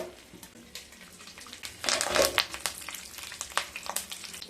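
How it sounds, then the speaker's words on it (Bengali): Curry leaves dropped into hot oil with black mustard seeds, a crackling sizzle that flares suddenly and spits in sharp pops before settling into a steady fry. "কারি পাতা দেওয়ার পরে একটু ঢেকে দেবেন, তা না হলে কিন্তু তেল ছেটবে।"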